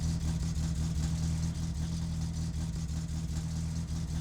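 Car engine in the My Summer Car video game idling with its exhaust disconnected, a loud, raw, droning rumble with a steady low throb and faint rhythmic pulsing throughout.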